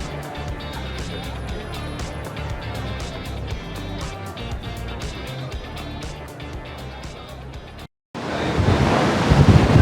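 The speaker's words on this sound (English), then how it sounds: "Out on a very windy deck." Strong wind buffets the microphone on an open cruise ship deck in Alaska, with steady surf and waves beneath. A short dropout is followed by louder, harsher gusts.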